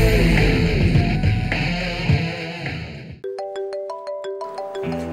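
Loud background noise and music give way to a phone's electronic ringtone, a bright repeating melodic chime that plays clearly on its own.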